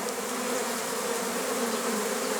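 Honey bees swarm around hive boxes used to ship packaged colonies in March, making a dense, steady buzzing hum that fills the whole stretch without pause, with no voices.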